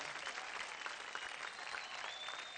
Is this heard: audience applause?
yes